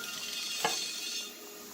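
Oil sizzles steadily as cornstarch-coated chicken fries, a broad hiss with a brief clink of a utensil partway through, no voices.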